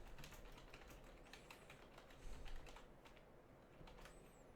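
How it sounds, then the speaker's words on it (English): Rapid, steady keyboard typing, close and fairly quiet, with a few slightly louder keystrokes and no talking. "Now I'm typing into the chat."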